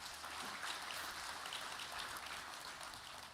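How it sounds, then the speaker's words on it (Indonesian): Faint crowd applause at an Indonesian presidential cooperative inauguration event, a dense steady patter of many hands clapping, heard from a distance throughout. "Boleh tepuk tangan yang meriah."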